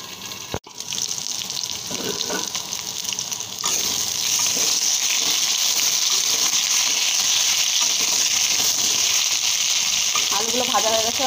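Potatoes fry in hot oil in a pan, giving a constant bright, hissing sizzle that swells after a short pause and holds steady, with a few faint clatters along the way.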